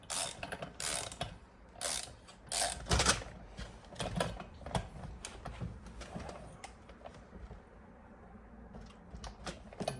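Bolts on the clutch cover of a Stihl MS170 chainsaw being tightened with a ratchet, a series of close clicking turns and metallic handling sounds that thin out into quieter fumbling.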